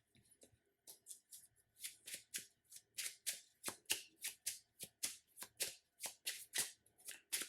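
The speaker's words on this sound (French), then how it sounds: "je reprends un lancer de toile que je vais remélanger" Marvel Champions playing cards being riffle-shuffled by hand on a table, a quick series of close, crisp ruffling bursts repeating in a steady rhythm with no speech.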